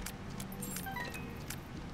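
Key pickup in The Binding of Isaac: Afterbirth+, a short jangling metallic clink over a low continuous game background, with a few sharp bright accents.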